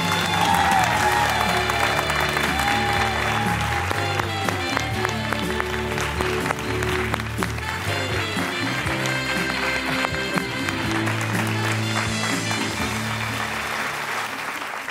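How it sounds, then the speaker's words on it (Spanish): A studio audience applauds a guest on a television show, loud sustained clapping mixed with cheering over a musical backing, steady for the whole stretch. "Fortísimo aplauso, por favor, para nuestra invitada Eva Isanta"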